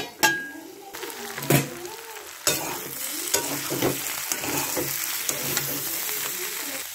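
Prawns with green onion sizzle in a hot pan while a spatula stirs and scrapes, several distinct knocks against the metal over a steady frying hiss, close and fairly loud.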